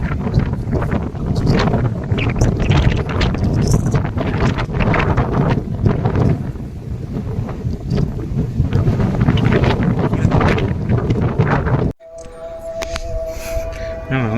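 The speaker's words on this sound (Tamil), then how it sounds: "காற்று அதிகமாக அடிக்குது." Strong wind buffets the microphone almost nonstop on the hilltop by the Shiva statue at Shivagange Hills near Tumkur, loud and roaring for about twelve seconds, then cutting to a quieter stretch with a steady tonal hum.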